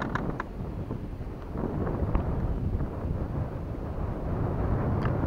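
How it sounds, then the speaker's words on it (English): Wind from hurricane remnants roars steadily across the microphone on a fishing outing, a dense, low continuous rush that grows slightly louder midway, with no clear voice. "That's that wind, remnants from the hurricane."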